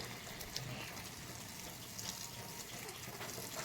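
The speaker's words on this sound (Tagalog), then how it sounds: "nagpupuno na lang ako ng tubig dito sa ating fish pan" Water pours steadily into a backyard fishpond, a faint, even rushing gush that holds constant throughout with no talk over it.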